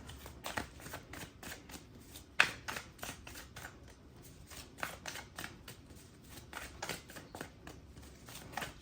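A deck of cards being shuffled at close range, with repeated quick riffling bursts and soft flicks running steadily throughout, one sharper snap partway through, no talking.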